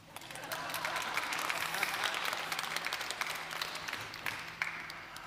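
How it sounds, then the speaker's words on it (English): Audience at a global tourism resilience forum breaks into sustained applause, many hands clapping densely and steadily at moderate volume, tapering slightly near the end. "Applause."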